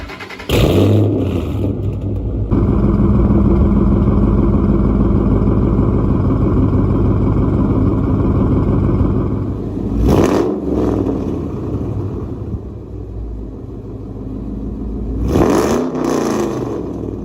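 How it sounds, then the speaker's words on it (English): A loud V8 exhaust on a Ford Mustang idles with a deep rumble close by, blipped into sharp revs near the start, middle and end. "Now, this is one of my favorite parts, and that's the exhaust, and I love how this one sounds."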